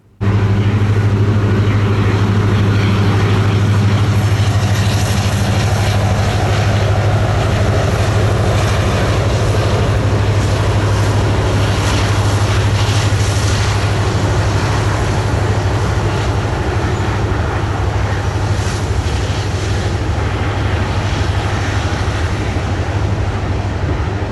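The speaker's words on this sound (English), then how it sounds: "the Mack started blasting its horn and going over the bridge" A Mack train crossing a bridge near a farmer's field, a loud steady rumbling roar with a strong low drone held for over twenty seconds, close to the listener with no talk.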